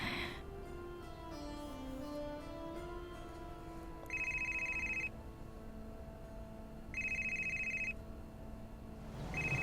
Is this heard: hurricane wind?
no